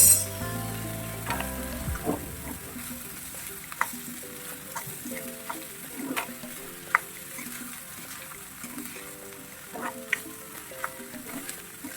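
Sweet broad beans frying in a pan. A steady sizzle runs under music, and sharp spoon scrapes and taps sound at irregular intervals as the beans are stirred.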